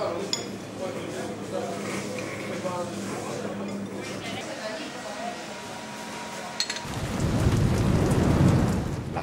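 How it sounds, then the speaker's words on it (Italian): A violent evening thunderstorm with rain, a steady wash of rainfall continuing throughout, with a deeper rumble of thunder swelling louder near the end. Faint speech sits under the storm. "La sera prima della partenza si scatena un violento temporale."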